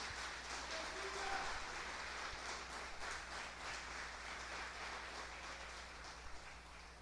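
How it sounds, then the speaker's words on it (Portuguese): A church congregation claps during a service, a dense steady patter of many hands sustained throughout at moderate level over a faint low hum, with no clear speech. "Dê uma salva de palmas ao nosso Senhor Jesus Cristo."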